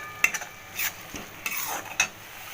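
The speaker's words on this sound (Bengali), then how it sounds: "এবার এটা বেশ ভালো করে কষাবো।" A utensil scrapes and clinks against a pan while fried potatoes and pointed gourd are stir-fried for a milky potol dish, with a few sharp metallic taps over a faint sizzle.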